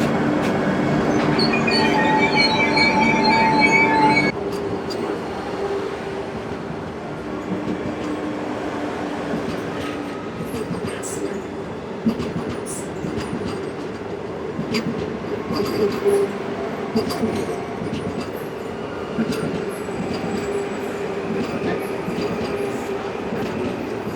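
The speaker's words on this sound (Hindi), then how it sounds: "आप देखिए अराइवल वंदे भारत एक्सप्रेस का" A Vande Bharat Express train arrives at a station, a loud steady rumble of rolling carriages with brief metallic wheel squeals early on, then continuous clattering and creaking as it slows alongside the platform.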